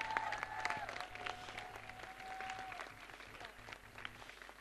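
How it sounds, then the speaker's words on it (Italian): Audience applause at a school orchestra's Christmas concert at a liceo, fairly soft and spread out, with a held tone fading beneath it and murmured voices mixed in. "un applauso alla dirigente"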